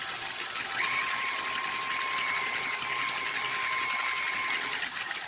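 An electric mixer runs steadily on butter for cupcake frosting, giving a continuous motor whine with a steady hum throughout and no talking.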